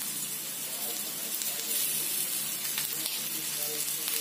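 A piece of surmai fish fries on a hot tawa over lowered flame, giving a continuous bright sizzling hiss, close and fairly even, with faint crackles.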